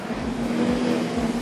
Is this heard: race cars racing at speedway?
yes